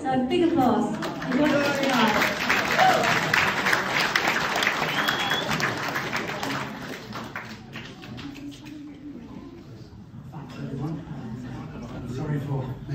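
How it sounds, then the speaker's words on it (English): Audience applause in a village hall at a Nick Drake gathering, strong clapping that gradually thins and fades, with voices talking over it toward the end. "So big applause."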